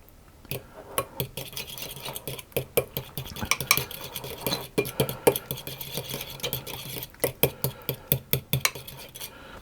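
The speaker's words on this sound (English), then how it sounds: "I'll just break the egg up and stir that through a little bit." A utensil stirs a broken egg through garlic, chive and cheese scone mixture in a bowl, giving a run of rhythmic clinking scrapes against the bowl, close and fairly loud.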